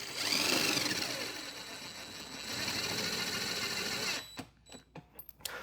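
Socket tool with a 13mm socket driving the bolts of a cart rack mount, a steady close buzzing run for about four seconds, then broken into short separate bursts before stopping.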